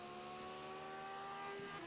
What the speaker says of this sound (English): in that high revving Lamborghini, my goodness, it revs to the moon, that thing